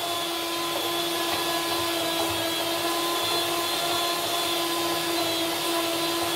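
A kitchen food processor or blender runs steadily with its blades chopping ingredients for a gluten-free blueberry cheesecake, a loud continuous whirring drone with no pauses.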